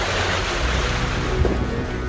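Strong storm winds and high sea waves at Rameswaram, Tamil Nadu, roar steadily as a dense broadband wash of surf and gusting wind noise, with a brief low thump near the end and no speech.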